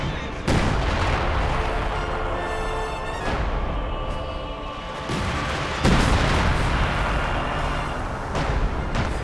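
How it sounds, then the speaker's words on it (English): Artillery fire in a WWII real-time strategy match with IS-2 tanks: dense, continuous rumbling blasts and crackling gunfire roll on throughout, with sharper booms breaking through and no voices over it. "Lots of artillery, lots of death."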